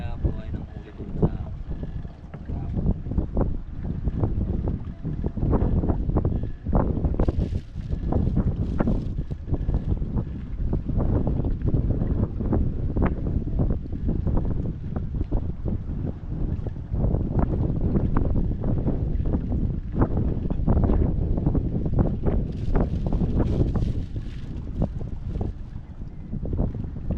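Strong wind at sea roars and buffets the microphone on a fishing boat, a loud, steady rushing that lasts throughout, with faint voices now and then beneath it.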